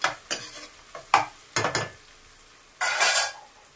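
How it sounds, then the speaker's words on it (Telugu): Sliced bitter gourd sizzles in a pan while a spatula stirs it in short scraping bursts, a few quick strokes followed by a longer sweep, close and moderately loud. "అవి కాకరకాయలు వేగుతున్నాయి."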